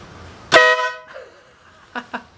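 A loud air horn fitted to a Honda Ruckus scooter gives one sharp, close blast that rings briefly, followed by two short faint clicks.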